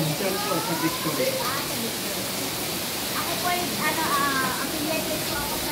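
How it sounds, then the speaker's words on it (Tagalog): Steady hiss of heavy rain at a condominium clubhouse, with people talking and calling out faintly over the downpour. "malakas po yung ulan dito"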